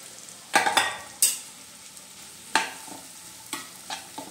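Tomatoes tipped into a hot frying pan, a few separate scraping stirs and bursts of sizzle with quiet gaps between, close and clear.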